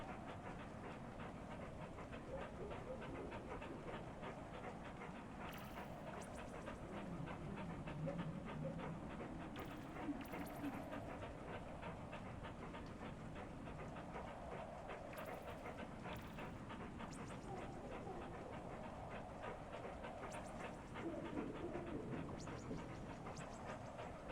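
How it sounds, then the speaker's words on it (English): A dog in the video game Animal Well pants and yaps in short repeated bursts over a constant rumbling, clattering game soundscape that runs throughout at moderate level. "get that dog to stop barking"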